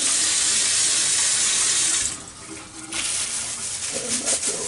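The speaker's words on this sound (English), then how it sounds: "wash these off pretty good over here in the sink" Chicken leg quarters are rinsed under a running kitchen sink faucet, a loud steady hiss of water that breaks into splashing and irregular spatter as the meat passes through the stream.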